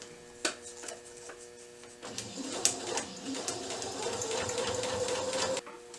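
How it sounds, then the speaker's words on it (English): A sewing machine stitches along a paper piecing line for quilting, starting with a few isolated clicks, then settling into a steady close mechanical whir with rhythmic ticking before stopping abruptly. "you're going to sew down this line again"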